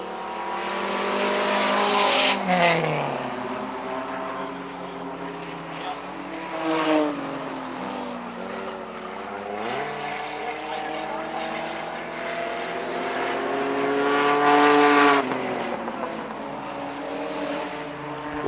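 Four-cylinder race cars roar around the Airborne Speedway oval in Plattsburgh, engines rising and falling as they pass near, with steady racing drone throughout and a race commentator talking over it.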